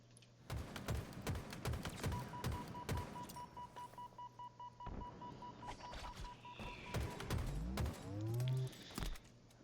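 Halo Infinite gunfire in a Streets Slayer match: quick clusters of rifle shots, fairly faint, with steady electronic beeps and a swooping game effect toward the end.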